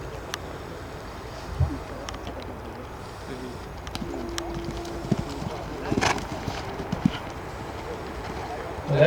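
Horse hooves clip-clop across a show jumping arena during a riding clinic, scattered thuds and light knocks at a distance, under an instructor's talk and ambient noise.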